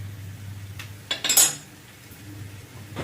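A spoon stirs spinach and lentil dal (palak paruppu) in a cooking pot, giving a brief cluster of metallic clinks and scrapes midway over a low steady hum, with quiet stretches before and after.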